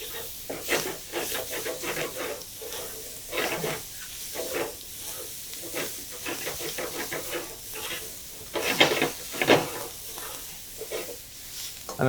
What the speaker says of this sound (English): Onions are going in, and you can hear that nice sizzle.